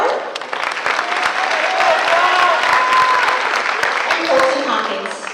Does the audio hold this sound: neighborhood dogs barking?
no